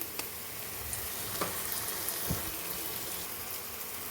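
Ginger garlic paste sizzling in hot oil in a pan for a chicken curry makes a soft, steady hiss with a few faint spatters and a brief utensil tap.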